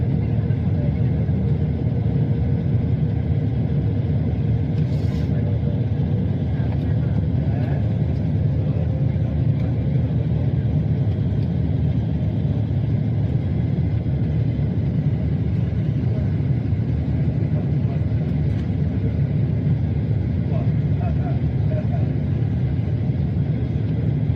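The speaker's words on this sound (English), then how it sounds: "we'll have the aircraft, the cabin atmosphere here, the noise of the engines" Steady broadband cabin drone of an aircraft in flight, its engines rumbling low and constant with a faint hiss above, unbroken for the whole stretch with no voices over it.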